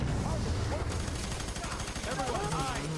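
Rapid, continuous automatic gunfire rattles through a co-op firefight in the video game F.E.A.R. 3, loud and sustained throughout, with a player's excited voice audible over the shooting.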